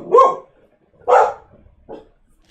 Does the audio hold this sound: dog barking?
yes